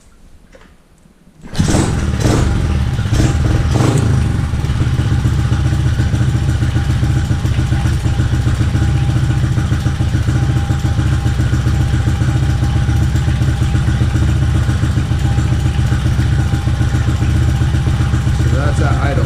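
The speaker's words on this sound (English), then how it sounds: "I'm gonna fire up the bike." Motorcycle engine fired up after a brief quiet moment, then idling loudly and steadily with a low chugging rumble right up close, a voice talking over it.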